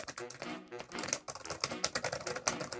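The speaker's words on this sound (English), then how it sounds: "It does feel a little hollow when you're typing" Typing on the keyboard accessory of a Lenovo Yoga Tab Plus tablet, a close, rapid run of light, slightly hollow key clicks with brief pauses, no talking.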